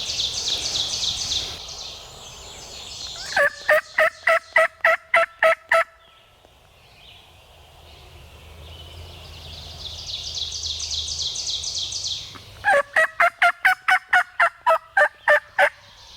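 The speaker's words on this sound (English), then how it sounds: "He finally gobbled back at me." A wild turkey gobbler, just off the roost, gobbles in two loud rapid bursts, each a fast run of about a dozen sharp pulses, with a quieter hissing pause between them and open outdoor air around.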